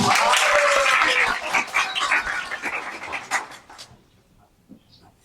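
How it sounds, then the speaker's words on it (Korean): An audience at a school presentation event applauds loudly, the dense clapping holding for a few seconds and then thinning and fading into near silence. "큰 박수로 맞아주세요."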